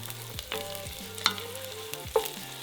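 Onions frying in a pan, a soft background sizzle with a few sharp scrapes and clicks of a utensil stirring them, close.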